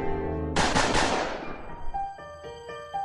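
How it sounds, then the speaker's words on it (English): A gunshot sound effect in a small shop setting: one sudden loud blast that rings out and decays over about a second, over sustained background music tones. "Some stranger shot the security camera, the handle of the door was shot too."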